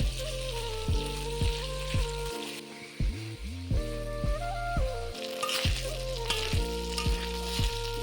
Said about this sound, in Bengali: তো মাংসগুলিকে আমি ভালো করে ভেজে নেব